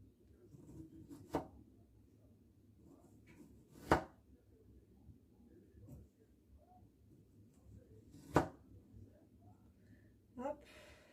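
A knife cuts strawberries into thin slices for a strawberry tart, giving a few sharp, separate chops spaced seconds apart over quiet kitchen background, with faint talk.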